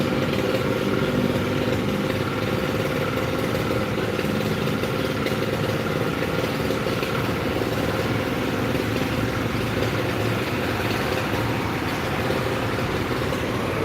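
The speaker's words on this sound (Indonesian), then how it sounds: "Banyak sekali motornya." Steady engine drone of many motorcycles and traffic on a busy road, with a truck mentioned nearby, a continuous loud rumble with no clear individual pass-bys.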